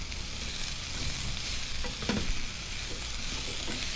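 Squash and zucchini sautéing in a pan with oregano, a steady close sizzle and hiss with a faint stir or two in the middle.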